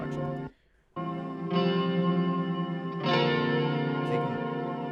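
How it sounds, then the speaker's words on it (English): Floaty electric guitars wash through a heavy echo effect, sustained chords ringing with a brief drop to near silence before swelling back louder and fuller. "It kind of just acts like an echo."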